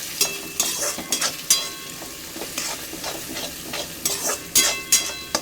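Egg and potato fry in a pan, a bright sizzle broken by repeated scraping stirs from a utensil, several louder strokes landing in an uneven rhythm.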